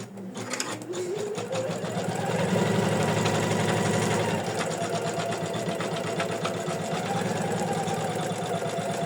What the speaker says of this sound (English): now we can continue stitching